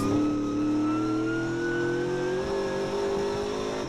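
A TA2 muscle car race engine howls at high revs during a circuit race, a loud, steady tone climbing slowly in pitch as the car accelerates, heard alone without talk.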